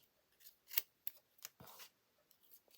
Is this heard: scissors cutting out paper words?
yes